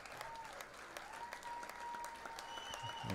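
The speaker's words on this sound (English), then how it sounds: "And they give a round of applause to their supporters." At a USL League Two soccer match between FC Tucson and Arizona Arsenal SC, the players applaud their supporters, giving distant, scattered claps over crowd noise, with a faint voice near the end.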